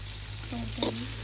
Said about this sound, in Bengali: মাছ ভাজার পরে হচ্ছে পেঁয়াজ মরিচ টমেটো ভাজা দিবে